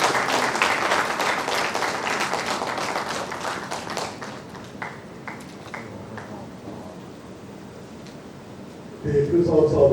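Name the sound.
audience applause, clapping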